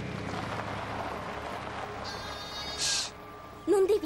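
Sheep bleating in a field, brief wavering bleats near the end over a faint outdoor background with a low murmur.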